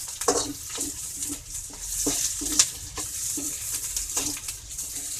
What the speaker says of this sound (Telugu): క్యాప్సికమ్ ఫ్రై చేసుకుందాము.